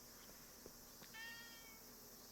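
Short cat meow in the video game AYAKAisDEAD, a single quiet, high harmonic cry after a couple of faint clicks, close but low in level.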